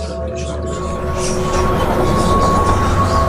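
A train rumbles steadily along the rails, a loud continuous roar with low hum and faint rattling throughout.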